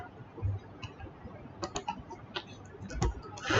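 Clicking of keys on a computer keyboard as a hello world program is typed, a sparse irregular run of light taps, faint and close.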